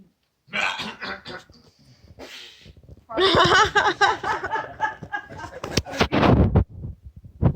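Several people cough, clear their throats and snicker in a loose burst of noises, some close and some scattered, with a short lull partway through.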